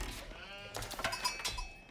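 Sheep bleat in the video game Age of Empires IV: a short cluster of quiet, wavering bleats in quick succession.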